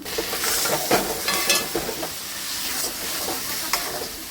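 Ground ash gourd paste with ginger paste, sugar and salt is stirred in a pan for a dhoka filling, giving a steady close hiss and soft sizzle with scraping strokes spaced through.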